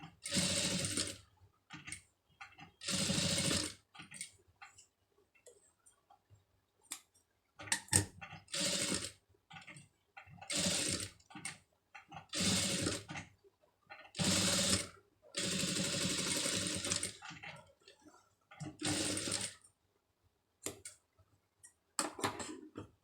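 A sewing machine stitches a garment sleeve in a series of short bursts separated by silent pauses, with the motor loud and close on each run.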